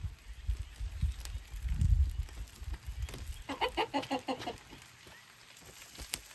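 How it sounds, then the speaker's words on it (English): A rooster clucks in a quick series of short, close calls midway while pecking at a person's pants beside a pork-rib smoker, after some rustling and low thumps, with no talking. "my little rooster here is pecking at my pants"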